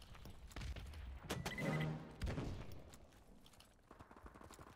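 A grenade thrown in an online shooter video game goes off in a short burst of blasts and impacts amid other game noise, moderately loud and brief, with no talk.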